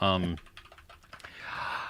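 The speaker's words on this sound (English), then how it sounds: "I stepped out my keyboard for a mechanical keyboard, and it's all clickety clackety" Clicky mechanical computer keyboard being typed on, a rapid run of clattering keystrokes following a burst of speech, close and fairly loud.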